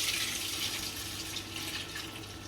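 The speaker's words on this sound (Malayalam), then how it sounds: "പാലിങ്ങനെ ഒഴിക്കുക." Milk pouring into a pan on an electric stove for vermicelli payasam, a soft continuous liquid splashing stream that stays steady, close and moderately quiet.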